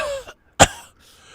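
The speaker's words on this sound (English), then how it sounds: "I'm coughing because it said that." A person coughs, first a short throaty cough and then a louder, harsher one close to the mic, with silence between and after.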